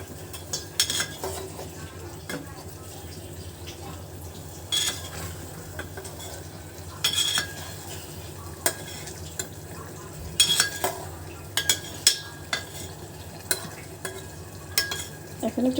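Boiled eggs being stirred and fried with spices in a pan for egg bhuna, a steady soft sizzle under repeated spoon scrapes and clinks against the pan, close by with no talk.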